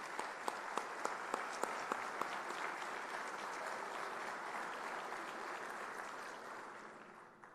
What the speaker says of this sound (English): if you would stand up and let us applaud you for all the hard work in your leadership